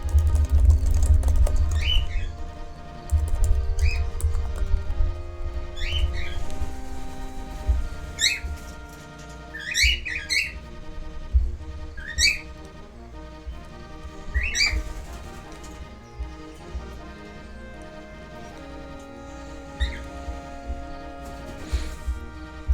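Chirping and squawking bird calls come in repeated bursts through a steady electronic music background, fairly loud, with no talk.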